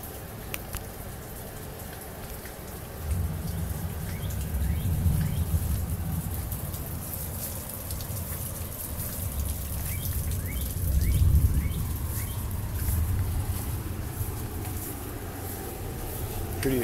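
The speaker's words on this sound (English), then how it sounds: "Pretty extreme hail." A hail storm in North Vernon, Indiana in July, with marble-sized hailstones falling on houses, a steady dense patter and hiss throughout with low rumbling surges, no talking.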